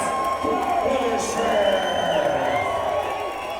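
Crowd at an MMA fight event cheering and whooping in a steady roar from across a large venue, under a commentator talking over it.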